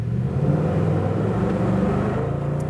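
A sports car engine idles and revs with a steady, smooth low rumble, loud and close, refined rather than aggressive, heard alone for a few seconds.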